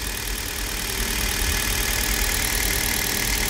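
Hyundai Solaris car engine running on Toyota oil, idling with a steady, even drone that stays loud and close for the whole stretch, with no voices.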